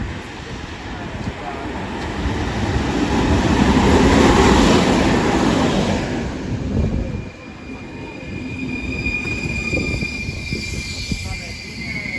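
A train rolls past on rails, its wheels grinding and squealing as the rumble builds to a loud peak near the middle, then eases into a steadier, quieter clatter.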